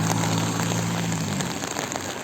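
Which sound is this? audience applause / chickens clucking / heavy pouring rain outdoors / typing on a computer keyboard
heavy pouring rain outdoors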